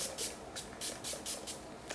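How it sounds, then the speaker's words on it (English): Repeated short bursts of heat protectant spray misted onto curly hair, about seven quick hisses in a steady rhythm, close and moderately quiet with no talking. "So what I like to do is just go ahead and spray it in."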